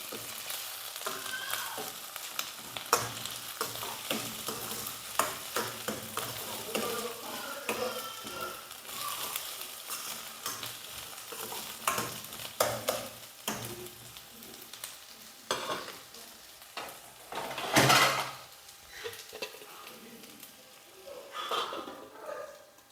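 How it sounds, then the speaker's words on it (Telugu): Ginger garlic paste and onions fry in oil, a sustained sizzle broken by frequent stirring scrapes and clatter of a utensil against the pan, with faint background voice. "ఈ అల్లం వెల్లుల్లి పేస్ట్ని 1 నిమిషం పాటు ఈ ఆయిల్లోని ఫ్రై చేసుకుందాం."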